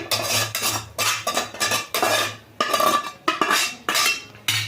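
Cooked soya gojju is scraped off a kadai with a metal spoon onto a plate. Quick, rhythmic bursts of scraping and clinking repeat at close range, with a few brief pauses between them.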